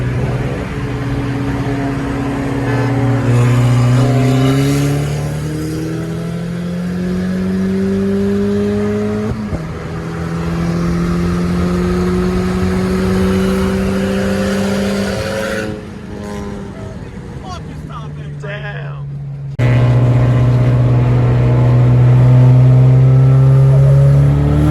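A turbocharged VW GLI racing a Cobalt SS, its engine loud and close as it revs through several rising gear pulls, each climb cut by a shift, with a brief lull before a final hard pull.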